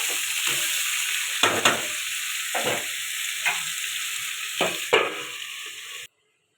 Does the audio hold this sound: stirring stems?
yes